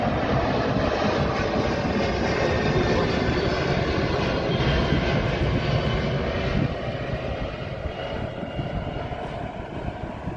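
Engines of a C-17 military transport aircraft roar in flight, heard from inside the cargo hold with the rear ramp open, a loud, dense, continuous wash of engine and wind noise that eases slightly toward the end.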